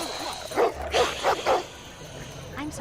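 Dogs bark in a scene from the film Catwoman, with four sharp, fairly close barks in quick succession followed by quieter yips and whimpers against background sound.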